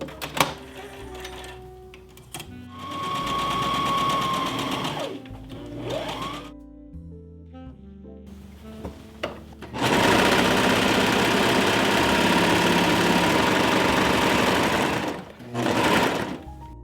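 A sewing machine stitches a dress in bursts, with short runs and pauses early on, then a long loud continuous run of rapid needle clatter before stopping and starting briefly again.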